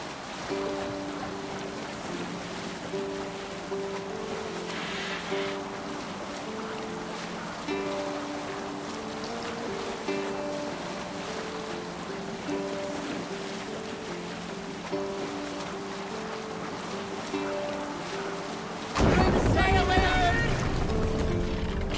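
Viking longship under full sail in Assassin's Creed Valhalla, with a steady wash of water and wind under a game music melody, then a louder splash of waves near the end.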